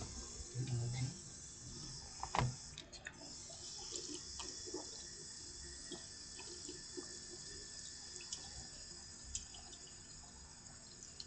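Water runs from a public outdoor tap or fountain as a faint, continuous splashing hiss with a few brief clicks and knocks, heard from a short distance and without talk.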